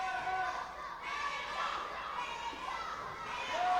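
A small wrestling audience cheers and chatters in support of a wrestler named Rachel, a steady mix of voices and shouts at moderate distance that swells slightly toward the end.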